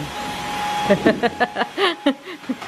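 A vacuum cleaner runs as a steady whining drone while picking up scattered styrofoam, and voices talk over it from about the one-second mark.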